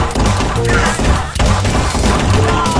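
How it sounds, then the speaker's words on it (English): Rapid machine gun fire in the VR shooter Guns'n'Stories Bulletproof, loud dense bursts of gunshots with thuds, continuous throughout and alone without talk. "Look at this guy with the big machine gun."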